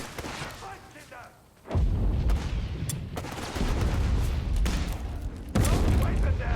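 An off-map naval artillery barrage in Company of Heroes 3, heavy booming blasts and rumbling gunfire rolling in repeated waves, loud and close, with in-game voices over the battle.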